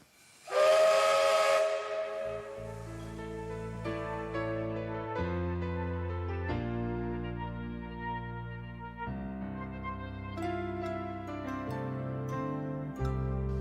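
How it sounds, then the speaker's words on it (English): A steam locomotive lets out a loud burst of hissing steam, then a long, sustained whistle with a shifting, chord-like tone that carries for many seconds. "The steam goes to the top of the boiler, going down these pipes here into the cylinder, pushing the piston back, which then drives the locomotive forward."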